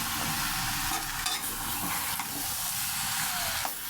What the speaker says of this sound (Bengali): দেখুন সবজিটা বাগার দিয়েছি